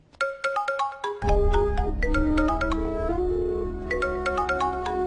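A phone ringtone plays a bright, repeating electronic melody, loud and close, with no voices over it.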